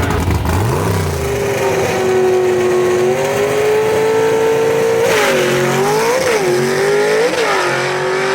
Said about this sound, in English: Adam Lowhorn with a 1-2 change, almost the 2-3 change while the front wheels are in the air